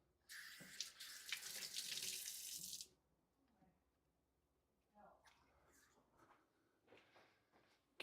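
Water runs from a kitchen tap for a quick rinse beside a pan on the stove, a close, bright splashing that lasts about two seconds and then stops, followed by quiet handling sounds.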